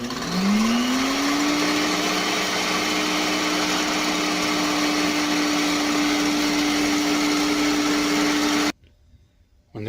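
An electric mixer whipping egg whites with cream of tartar on high speed for macarons: the motor spins up to a steady, loud, high whine for several seconds, then cuts off abruptly.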